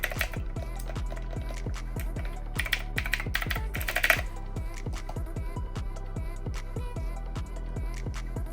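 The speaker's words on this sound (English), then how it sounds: "sometimes it's nice to just mess around with a clicky keyboard" Steady typing on a clicky mechanical keyboard, close up, with quick bursts of keystrokes and a few louder clacks, no voices.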